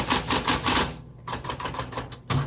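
A 1970s Smith Corona Coronet Super 12 typewriter types a row of X's over a mistake, giving sharp, evenly spaced key strikes close up, with a brief pause and then a second quick run.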